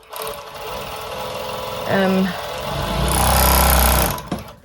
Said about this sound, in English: So I'm just going to overlock this